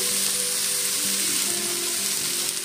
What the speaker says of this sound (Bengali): তো প্রথমে হলুদ দিয়ে দিচ্ছি